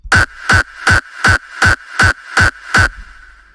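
Eight layered electronic kick drum punches hit in an even, steady rhythm, each short, tight and loud, then the sequence stops.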